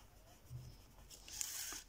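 Colored pencil or marker lightly shading a four-leaf clover drawing on paper, pressed gently: faint, soft scratchy strokes that grow into a brief, denser rasp in the second half, with no talking.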